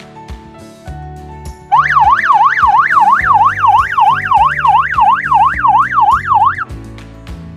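A modified TVS Raider 125 motorcycle horn sounds a police-style siren, a fast, loud, steady warble that rises and falls about a dozen times over a low idling engine hum, then cuts off.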